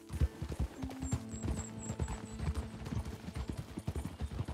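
Horse hooves clip-clop at a steady riding gait in the video game Red Dead Redemption 2, with a brief whinny and some soft background game sounds underneath.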